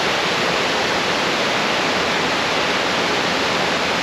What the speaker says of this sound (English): here is one of the waterfalls that's coming out of a cave